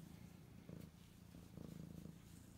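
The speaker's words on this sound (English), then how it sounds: "Good girl, I hear you purring." A female cat with a crooked tail purrs softly and close by, the low rumble rising and falling in gentle pulses with each breath, quiet and alone.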